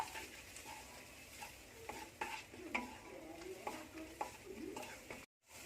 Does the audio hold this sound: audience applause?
no